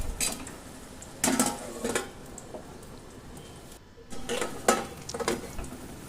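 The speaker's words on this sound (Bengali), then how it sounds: "এটা ঢাকা চাপা দিয়ে রান্না হতে দেব।" A lid goes onto a cooking pot of prawns and ash gourd simmering over low heat, giving a few scattered metallic clinks and clatters against quiet kitchen background.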